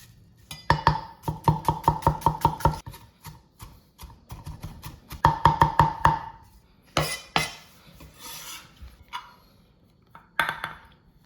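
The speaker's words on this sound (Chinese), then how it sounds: "准备2粒的小葱头切碎" A kitchen knife chopping shallots on a cutting board, with fast runs of crisp, ringing taps in two main bursts, then scattered slower chops and scraping, close and fairly clear with no talk.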